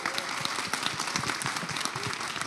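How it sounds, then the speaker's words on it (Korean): A hall audience claps in welcome for a presidential candidate at a digital economy forum, dense steady applause from many hands throughout. "다시 한번 환영의 박수 부탁드리겠습니다"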